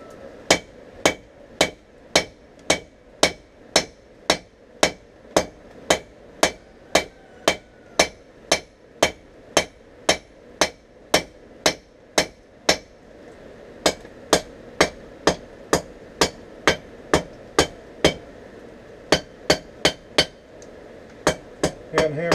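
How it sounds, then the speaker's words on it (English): A cable damascus knife blank is hammered at the tip while forging its blade profile: a long, steady run of sharp, ringing metal strikes at a brisk, even pace, loud and close, with no talking. "And hammering in the tip"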